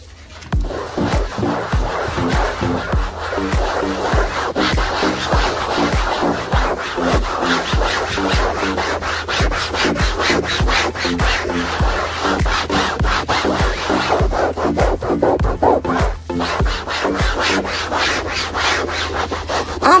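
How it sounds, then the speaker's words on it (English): Steady rapid back-and-forth rubbing of a detergent bar against a chair cushion, a dense rough scrubbing texture with fast repeated strokes, close and continuous throughout with no talk. "I'm gonna give the chair a final scrub down"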